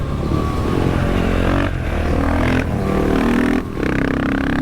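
A KTM 500 EXC-F motorcycle with an FMF exhaust revs hard and close, holding high revs with a few brief dips between blips.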